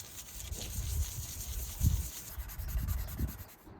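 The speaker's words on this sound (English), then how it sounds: "I'm going to take my bigger grit of sandpaper. I'm just going to hit the spot." Coarse-grit sandpaper rubs across a Telecaster guitar body in a handful of quiet, close scrubbing strokes, soft and uneven in rhythm.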